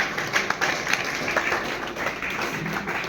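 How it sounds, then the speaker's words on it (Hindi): Dense, steady clapping from an audience at a college ceremony held with traffic police officers, filling the whole stretch at an even level with no clear speech over it. "ताली बजाओ, ताली।"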